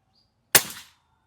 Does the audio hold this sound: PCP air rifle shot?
yes